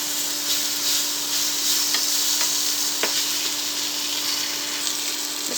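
Okra frying in a pan for varutharacha vendakka puli, a steady close sizzle throughout with occasional stirring clicks, no voices.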